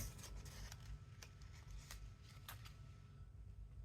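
Scissors snip through a yellow decorative sticker strip for a handmade product tag, giving a few quiet, irregular cuts over a low background rumble with no talking.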